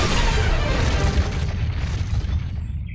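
A cartoon microwave oven blows up after a can of food is heated inside, giving a loud, dense blast whose rumbling roar fills the full three seconds and slowly eases off at the end.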